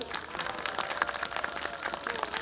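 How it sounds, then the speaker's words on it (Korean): Dense, steady applause from an audience at the 2019 Seoul Christmas Festival, greeting the World Vision Church children's choir; a continuous patter of many hands at moderate level throughout. "우리 합창단에서 먼저 박수 한번 해주실래요?"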